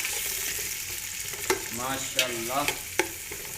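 Two large onions sizzle and fry in hot ghee with steady broadband hiss, while a spoon stirs and scrapes the pan in several sharp knocks; a voice speaks briefly over the cooking.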